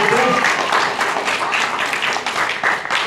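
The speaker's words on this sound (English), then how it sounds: "Clap for my friend Abrams!" Audience at a library event claps for a guest, a dense burst of close applause holding steady for about three seconds with a voice briefly heard over it.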